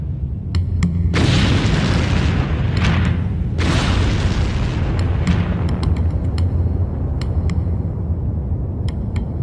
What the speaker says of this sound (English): this explodes out of the lava into the atmosphere